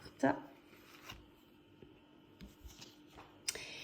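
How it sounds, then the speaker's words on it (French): Tarot cards are shuffled and drawn: quick papery riffles and a brisk flick near the start, then softer card handling and a sharp snap near the end, close and fairly quiet. "Je vais prendre une dernière carte."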